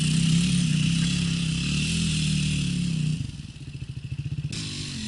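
A motorcycle engine labors on an uphill climb after the first rain, droning steadily at first, then dropping into a loud, choppy pulsing as the rider works the throttle, with no voices.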